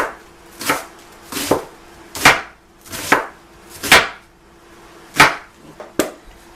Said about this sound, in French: Parce que le reste, je coupe tout à la main.